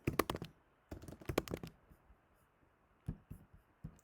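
Bursts of quick clicking keystrokes on a computer keyboard, close and fairly quiet, in short flurries separated by pauses.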